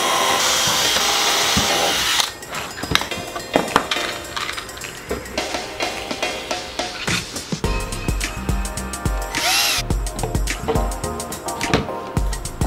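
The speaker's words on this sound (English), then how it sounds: "What we want to do right now is start drilling holes and get this into the carpet." A power drill whirs and bites in repeated short runs, drilling holes into carpet in an older Porsche 911 during a stereo install, with clunks and rattles of handling between them, close up and fairly loud.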